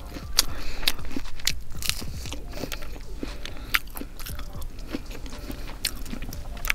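Someone eats a Taco Bell Mexican Pizza close to the mic, with crisp crunchy bites and wet chewing repeating steadily throughout, no talking.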